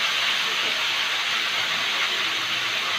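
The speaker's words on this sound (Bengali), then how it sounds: "হালকা ভাজবো, বেশি কড়া করে ভাজবো না" Broccoli fries lightly in a pan with a pinch of salt, giving a loud, steady hiss of sizzling that holds unbroken throughout, with no voices over it.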